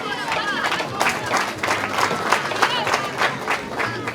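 An audience applauds at an International Women's Day celebration in Mahama refugee camp, a steady wash of many hands clapping with a few louder bursts throughout.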